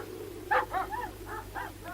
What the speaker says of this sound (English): Police dogs?